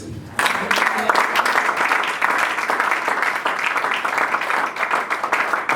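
A church congregation breaking into sustained applause during a sermon on prayer, dense rapid clapping that starts abruptly and carries on steadily, filling the room.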